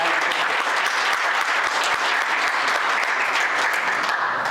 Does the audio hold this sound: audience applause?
yes